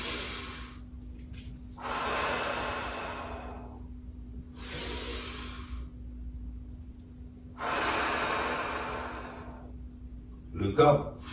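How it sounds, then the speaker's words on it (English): Deep breathing during a yoga-style breathing exercise: long, airy inhales and exhales repeat slowly and close up, followed by a brief voice at the end. "Breathe in here."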